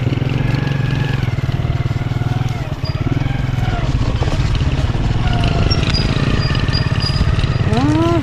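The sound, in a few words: motorcycle engine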